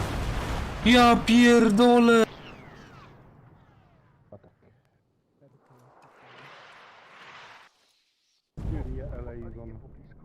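Scattered distant booms and thuds of artillery fire in Arma 3, with someone shouting loudly at the start and talking again at the end.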